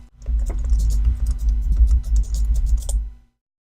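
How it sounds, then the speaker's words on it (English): Typing on a computer keyboard: a quick, irregular run of light key clicks over a low steady hum, close and moderately loud, with no talking. "we can find out our environment by typing in the PHP artisan environment command"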